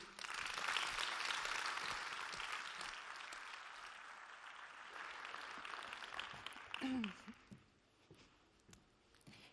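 A gala crowd at an EPFL alumni event claps loudly and continuously, the applause thinning and fading toward the end, where a single voice and a few scattered claps and shuffles remain.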